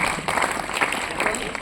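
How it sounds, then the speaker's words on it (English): Audience clapping at a school math quiz show, a dense burst of applause with a voice faintly present beneath. "Please give a big round of applause for them."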